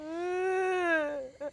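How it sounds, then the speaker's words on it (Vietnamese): A baby crying in a house, one long, loud, sustained wail that rises and falls, then a short sob at the end, close and alone with no talk. "Tiếng con nít khóc."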